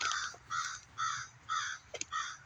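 A crow caws four times in a slow, evenly spaced series of harsh, hoarse calls, with a brief clipped note just before the last, the bird clear and fairly close against quiet background.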